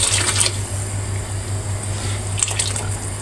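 Broth poured over pasta in a pot, a close, steady liquid pour with bubbling and a few splashy bursts at the start and near the end, no talking.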